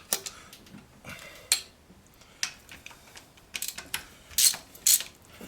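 Hand ratchet tightening intake manifold bolts on a 1969 Ford Ranch Wagon, a series of sharp close clicking bursts in uneven rhythm with brief pauses between strokes.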